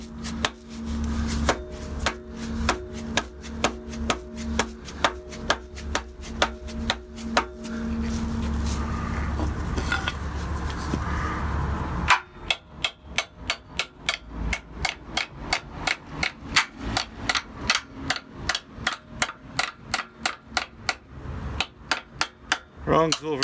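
A hammer strikes a part from a Cummins engine build, sounding as a long series of loud metallic blows. They start as regular strikes, then come as a faster, sharper run of close, ringing hits.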